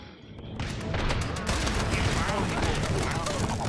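Dense, continuous gunfire from a Wild West battle in Totally Accurate Battle Simulator, a loud rolling fusillade of overlapping shots that swells after a quiet start and holds steady, with a voice speaking faintly underneath.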